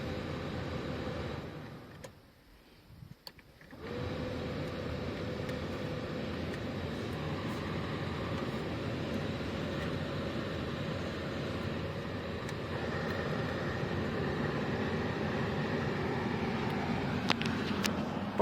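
A Toyota's AC blower motor hums steadily with broadband whirring, briefly dipping near the start before resuming at an even, moderately loud level.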